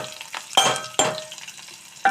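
Sliced onions crackle in a hot pan, a soft sizzle broken by three sharp stirring scrapes and clinks of a utensil, heard close with no speech.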